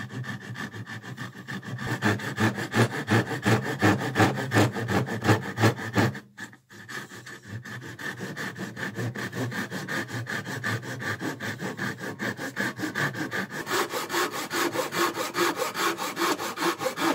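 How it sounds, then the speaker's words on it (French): Hand saw cutting through a pallet wood offcut in a workshop, steady back-and-forth rasping strokes close up, a brief pause around the middle before sawing resumes at a quicker, lighter rhythm. "Et ça permet de m'entraîner un peu au trait de scie."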